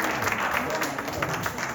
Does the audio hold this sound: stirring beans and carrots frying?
no